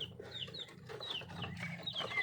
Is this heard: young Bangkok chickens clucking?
yes